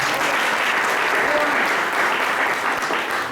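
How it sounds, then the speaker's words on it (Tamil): A Tamil literary gathering's audience bursts into sustained applause, dense steady clapping filling the room for several seconds without talk. "அதுக்காக ஒரு கைத்தட்டு"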